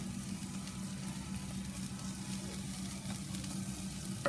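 Onions frying in a pan for a Holi masala served with puri, a soft continuous sizzle with a low steady hum beneath, close and alone.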